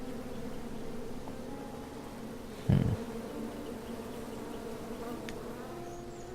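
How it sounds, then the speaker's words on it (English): Bees from a beehive in the 2015 King's Quest video game buzz in a continuous steady drone, moderately loud, with a brief thump partway through and no talk. "Bees! I ruined the bees' day and that lovely meal."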